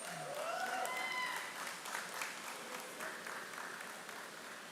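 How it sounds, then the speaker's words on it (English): Steady applause from a hall audience at the IIT Madras biotechnology convocation ceremony, a sustained wash of clapping heard at moderate distance as a graduate is honoured. "Applause."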